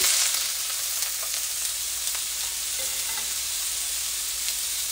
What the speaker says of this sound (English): A little more oil. And now we're going in with some bamboo shoot.